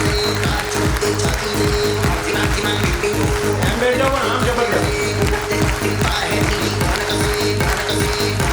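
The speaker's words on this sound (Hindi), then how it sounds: "तो एक बार आप सब लोगों के लिए जबरदस्त राउंड ऑफ अप्लॉज चाहिए।" A large gathering of several hundred people breaks into loud, sustained applause and cheering, with a thumping music beat running underneath the whole time.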